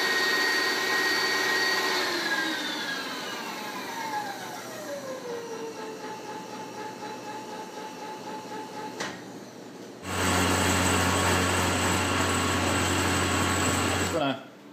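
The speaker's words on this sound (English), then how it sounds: "going to go ahead and hit the ends with an end mill here" A milling machine drives an end mill into the ends of a steel press brake die, its motor whining down as it slows, then a loud steady cutting roar for several seconds before stopping.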